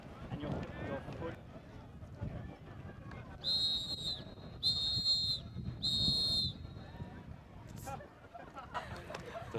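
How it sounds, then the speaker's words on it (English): Three sharp referee whistle blasts sound in steady succession at an under-24 ultimate frisbee quarterfinal match, ringing out over continuous crowd and player noise. "The three whistles indicating that"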